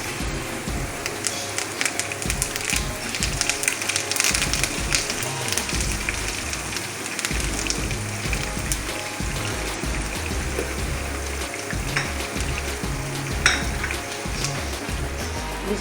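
Curry leaves dropped into hot oil crackle and sizzle loudly and continuously, a dense spattering hiss close up that stays steady throughout with no talking.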